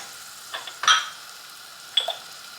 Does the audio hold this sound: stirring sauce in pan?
yes